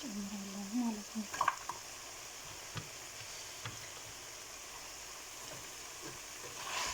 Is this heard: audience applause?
no